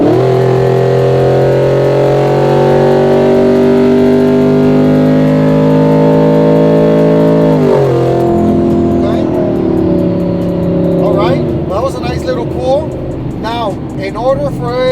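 Twin-turbo 2024 Ford F-150 accelerating hard, a loud sustained engine drone climbing in pitch before easing off, followed by driving noise as people talk over it.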